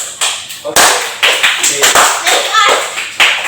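Several people clap in bursts of sharp, close claps, with voices talking over them.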